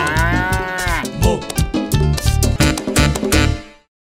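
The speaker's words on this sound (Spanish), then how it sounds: "Esta es la vaca." A cow moos several times in a row, loud and close, with drawn-out harmonic calls that rise and fall before fading out.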